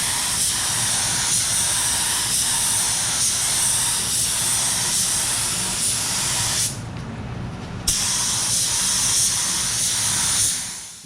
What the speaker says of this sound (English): It's getting ready to spray it with sealer and get to painting.